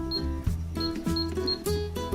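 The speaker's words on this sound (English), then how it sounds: "This cash register makes sounds, realistic sounds, just like a real cash register." Electronic beeps and chimes from a Just Like Home toy cash register playset, a quick series of bright tones repeating about every half second, loud and close with no talking.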